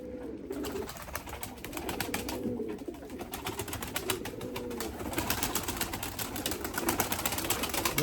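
Several Erzurum white pigeons coo in soft, repeated rolling calls close by, with light rustling and clicking throughout.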